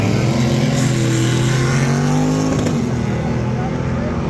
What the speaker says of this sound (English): wheeling the mid 6-second Mustang drop top left side. That thing is a drag and drive veteran hot rod